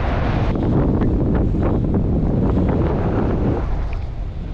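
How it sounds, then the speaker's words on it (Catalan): Westerly wind buffets the microphone during a paragliding flight between Àger, Montroig and Foradada, a steady loud low roar with gusty surges that eases slightly near the end, with no voices. "però ara el vent és de ponent. Hi ha una mica de ponent."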